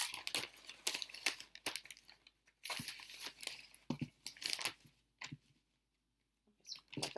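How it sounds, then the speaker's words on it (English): A plastic bag crinkling and rustling close up as a paint plate is slipped inside, bursts of sharp crackles and crumples in irregular clusters with brief quiet gaps. "And then put it inside the plastic bag."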